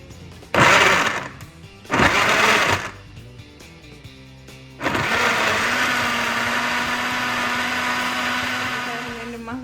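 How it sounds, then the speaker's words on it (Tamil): Blender whirring through a strawberry banana smoothie with milk and ice cubes, two short loud pulses followed by a long steady high motor whine as the jar runs continuously, close and loud. "அதோட கொஞ்சம் ஐஸ் க்யூப்பும் போட போகிறேன். போட்டுட்டு பிளெண்ட் பண்ண போகிறேன்."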